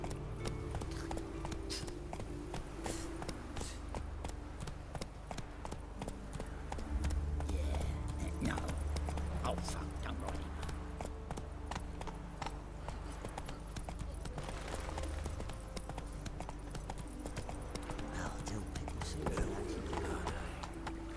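Steady clip-clopping of a horse's hooves in The Witcher 3 as a rider gallops along on the PS4. The hoofbeats stay even and continuous and keep going while someone talks.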